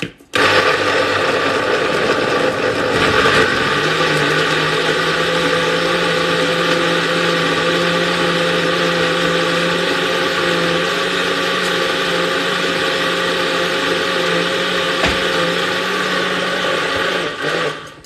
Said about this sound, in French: on n'a pas besoin de mixer ça longtemps parce que ça prend rapidement